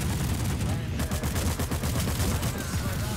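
Dense, rapid gunfire from the game PlanetSide 2, continuous bursts of shots close up, with game noise underneath.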